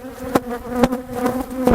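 Honeybees hum in a dense, steady drone inside an open Demaree-manipulated hive during an inspection, close and loud, with several sharp knocks or thumps breaking through the buzzing.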